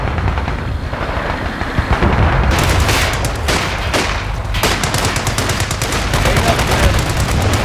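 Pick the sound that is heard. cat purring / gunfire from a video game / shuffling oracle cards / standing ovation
gunfire from a video game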